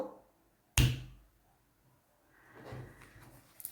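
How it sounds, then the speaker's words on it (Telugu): A single sharp finger snap rings out close by, decaying quickly, followed by near silence and then a soft, faint rustle. "ఇప్పుడు చిటిక వేద్దాము"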